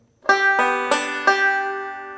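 Four plucked banjo notes in a quick forward roll, bright and twangy, each ringing into the next, played close with no voices.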